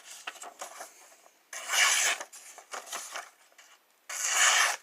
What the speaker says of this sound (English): so I did 10 on each side of the sharpener